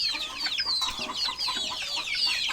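Chickens cluck and chirp in a busy overlapping chorus, steady and fairly close, with no one speaking.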